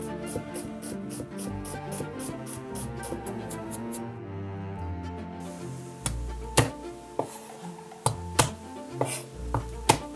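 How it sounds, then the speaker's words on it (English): Knife finely chopping onions on a board for Hungarian goulash, a series of crisp, evenly spaced taps that grows sharper and more distinct later on, with quieter clinks and kitchen noise before it. "we're going to prepare the base, a nice fine chopped onions"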